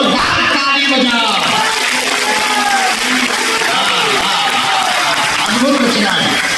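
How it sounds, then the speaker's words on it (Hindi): A large religious gathering claps loudly and continuously, dense applause filling the space while a voice is partly heard over it. "जोरदार ताली बजाओ।"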